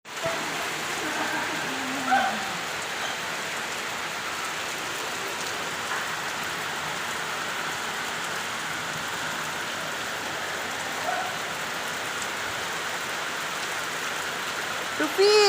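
Heavy rain pours down steadily and close by, a dense continuous hiss of drops on surfaces lasting throughout.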